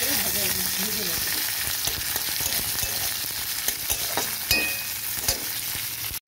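Chopped onion frying in a hot oiled pan with green chillies for a boal fish head curry, a steady close sizzle with a few sharp stirring clicks and scrapes, and no talking.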